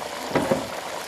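Water boiling in a cooking pot for an African mbika dish with fish: a brief, steady bubbling hiss, fairly close and even in level, with no voices.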